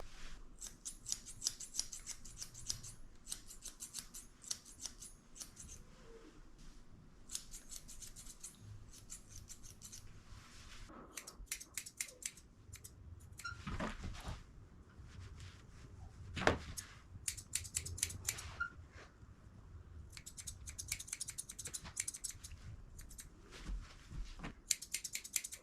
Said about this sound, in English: I'm using my curved chunkers just to blend in the top of his ears to his head